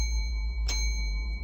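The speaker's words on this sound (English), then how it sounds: "I can ring the bell." A single bell rings once in a browser horror video game, a short bright chime standing out over a steady low background hum.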